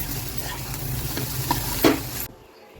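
A frying mixture with coriander leaves and curry leaves is stirred in a pan for an egg dish, giving a steady sizzle with spoon scrapes and one sharper clink near the end before it cuts off.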